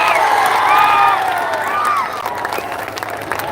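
An audience at a Telugu motivational speech rises and claps together, a loud dense applause with cheering and whoops that fades slightly toward the end.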